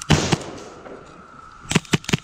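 An airsoft frag grenade going off in a quick burst of sharp cracking pops, close and loud, with a short gap and then three more bright snaps in rapid succession.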